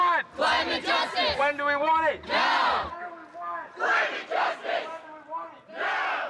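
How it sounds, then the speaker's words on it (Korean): Children chant climate justice slogans in unison at a protest march, a loud crowd of young voices shouting in rhythmic bursts with short gaps between phrases. "아이들은 왜 소리 높여 기후의 정의를 외치고 있는 걸까요?"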